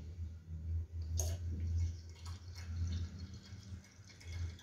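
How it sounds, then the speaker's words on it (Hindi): Cold water runs steadily into a jug for almond sharbat, a faint, low gurgling pour with a few small splashes and drips, heard close and alone. "अब इसके अंदर ठंडा पानी ऐड करेंगे।"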